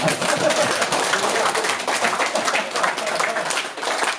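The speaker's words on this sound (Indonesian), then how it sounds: "mau tepuk tangan Pak, jangan ragu-ragu" An audience claps at an Indonesian retirement ceremony for a meditation and breathing-technique session, producing sustained, dense applause that swells and dips slightly.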